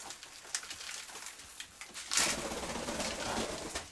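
Domestic pigeons cooing while being fed, soft repeated coos and rustling close by, with a louder burst of flapping or scuffling partway through.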